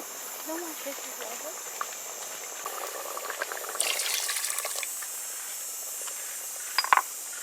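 Beef and potatoes in water cook under pressure for a curry, giving a continuous soft hiss of steam with faint bubbling, a brief louder burst midway and a few small clinks near the end.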